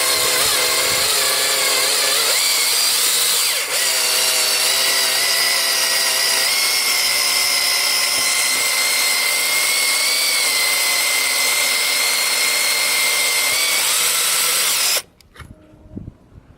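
Power drill spinning a UniBurr deburring tool against stainless steel, a loud sustained whining buzz held steady for about fifteen seconds close up, then cutting off abruptly.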